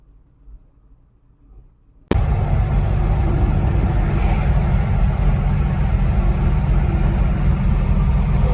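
A Chevrolet Corvair's engine pulls steadily uphill in third gear on an open road near Mount Airy, North Carolina, cutting in abruptly after a quiet moment and holding a loud, constant rumble with broadband road and wind noise.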